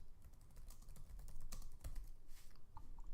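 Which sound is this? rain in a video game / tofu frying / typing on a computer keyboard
typing on a computer keyboard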